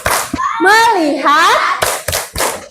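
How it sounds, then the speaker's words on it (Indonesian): Children in a classroom chant together while doing a rhythmic focus clap, with sharp hand claps cutting through loud, close voices. "Tepuk fokus."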